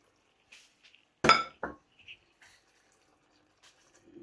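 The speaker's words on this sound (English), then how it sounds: "Give this a nice mix." Sparse clinks and scrapes of a utensil against a pan while cashew paste is stirred into a paneer curry, a few separate knocks with quiet gaps between them.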